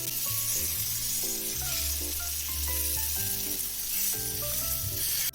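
Paneer tikka frying slowly on a tawa, a continuous close crackling sizzle that holds steady throughout, with faint musical tones playing underneath.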